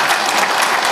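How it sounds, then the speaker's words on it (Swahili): A crowd claps steadily and densely at an entertainment event in Iringa attended by Regional Commissioner Kheri James, with the applause sustained and fairly loud throughout the second. "Kwa hiyo naomba nimpigie makofi"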